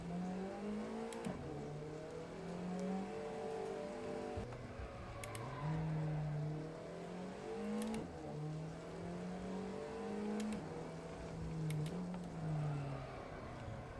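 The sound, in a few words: turbo car engine revving in Assetto Corsa video game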